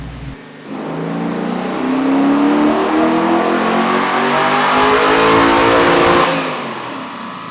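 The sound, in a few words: car engine revving at full throttle on a dyno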